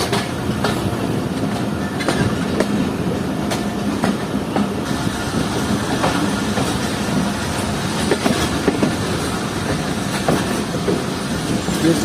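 A passenger train, the Jaffer Express on a single-line section, rolling through Ghurila railway station in Pakistan with steady rumbling and rhythmic wheel clatter, loud and close throughout and no voices.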